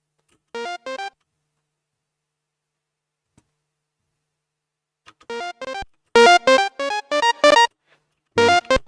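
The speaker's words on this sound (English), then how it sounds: "Distort the lead." Short bursts of a distorted, saturated synth lead in a music production session, playing staccato note groups separated by silences, bright and harmonically rich with no voices.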